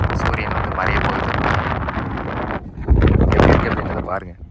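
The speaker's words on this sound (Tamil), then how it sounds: "காற்று வந்து பயங்கரமாக இருக்குது" Strong outdoor wind around the Bhavanisagar area buffets the microphone in loud, rough gusts, with someone talking through much of it.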